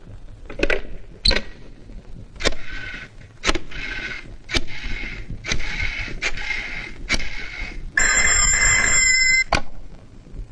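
A phone ring tone sounds near the end, a bright ringing burst preceded by sharp clicks and taps repeating irregularly through the clip.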